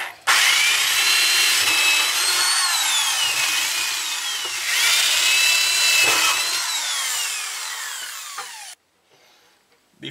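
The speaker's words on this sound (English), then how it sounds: "Now I'm going to swap out that paddle bit with this quarter inch drill bit" A power drill with a quarter-inch bit whines loudly as it bores into wood for a barn door, pitch sliding up and down over several seconds before stopping abruptly, close by.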